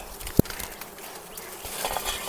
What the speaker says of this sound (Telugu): ఈగలు చూడండి.